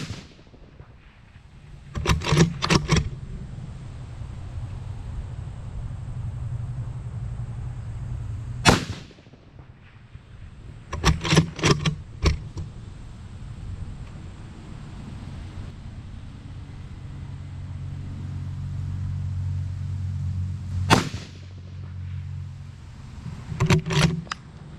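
Long range rifle shots from a three-round magazine ring out as sharp, loud cracks, clustered reports near 2, 9, 11–12 and 21 seconds, each with a brief rolling echo over steady outdoor background.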